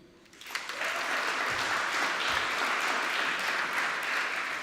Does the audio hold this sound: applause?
yes